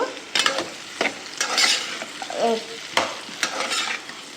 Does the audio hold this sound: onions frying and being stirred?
yes